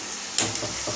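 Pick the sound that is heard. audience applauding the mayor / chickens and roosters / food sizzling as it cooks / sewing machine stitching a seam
food sizzling as it cooks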